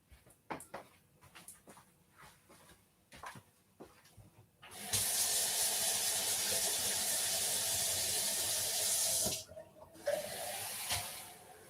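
Kitchen tap running water into a sink, a steady loud hiss that starts abruptly after some clatter, lasts about five seconds, then cuts off and briefly resumes.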